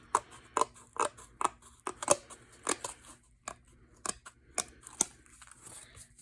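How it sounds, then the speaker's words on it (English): Scissors snip through folded card for a Christmas card, a series of about a dozen sharp, close cutting crunches in an uneven rhythm with quiet pauses between. "Now I'm just gonna use scissors to try and get this line as straight as possible."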